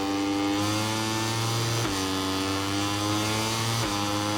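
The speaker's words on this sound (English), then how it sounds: "I can hear the engine roaring of Colin Veijer." A racing motorcycle engine in the MotoGP 24 video game roars loudly and continuously, holding a high whine with quick dips at gear shifts roughly every couple of seconds, with no talk.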